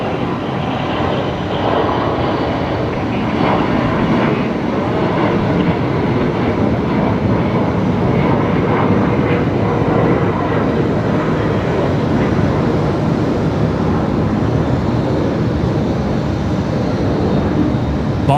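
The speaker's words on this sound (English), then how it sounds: "How about this little Gulfstream heading off here?" A Gulfstream business jet taking off from Brisbane Airport, a steady loud broadband engine roar sustained throughout without pause, no voices over it.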